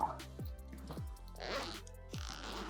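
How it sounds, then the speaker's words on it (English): Zipper on a Peak Design Travel Backpack 45L being pulled open in several quick, close strokes, each a short rasping sweep with brief pauses between them. "So basically this zips all the way around and you open this up right here."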